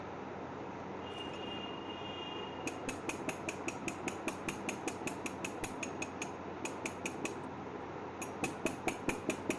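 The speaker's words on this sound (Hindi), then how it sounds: "एक टूल का हैंडल यूज़ कर रहा हूँ टैपिंग के लिए। टैपिंग करना है, हैमर नहीं करना है।" Light, evenly spaced taps from a tool handle work loose a tight oil pump part on an old Royal Enfield 350cc/500cc AVL/LB engine. The crisp clicks come in steady runs over a constant background hum, with no talking.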